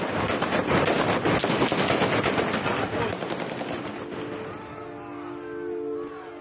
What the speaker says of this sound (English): Russian security forces threw stun grenades and opened fire at the protesters in Kherson.